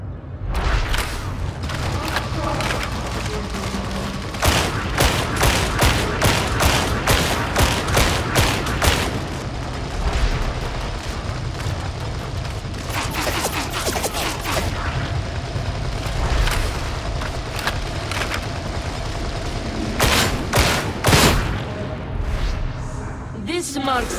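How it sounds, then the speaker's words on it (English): Enemy ranged gunfire in Warhammer 40K: Darktide crackles in rapid, dense volleys of shots and booms, loud and sustained throughout, with voices underneath. "Enemy ranged attacks cause suppression, making it harder to land accurate shots."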